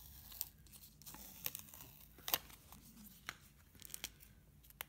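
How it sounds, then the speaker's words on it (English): Plastic casing is peeled and torn off a small Qi wireless USB charger receiver in faint, close, irregular tearing and crinkling snaps. "So first thing we have to do is to get rid of the plastic around it."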